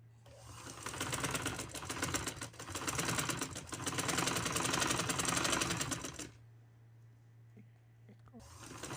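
A sewing machine stitches a trouser, running in a loud steady burst for about six seconds before stopping, then near-silence with faint handling clicks and the motor starting again at the end.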